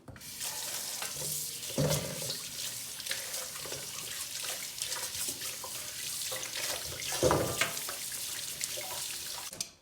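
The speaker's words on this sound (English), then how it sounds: "I need to wash this vegetable." Vegetables being washed under a running kitchen tap, a steady broadband rush of water with brief splashes and louder bursts as the produce is handled, close and continuous, with no talking.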